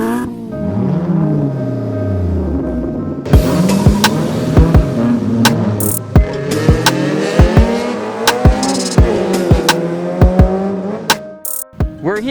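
Autocross race cars on a drift track in San Simon, Pampanga, during a Philippine Autocross Championship round, with engines repeatedly revving up and down, sharp gear changes and occasional tire squeals, loud and near.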